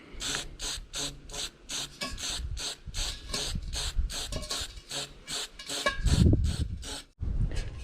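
An aerosol spray paint can lays a light primer coat on a cut metal end during an awning install. It makes a close series of short, sharp hissing bursts separated by brief pauses.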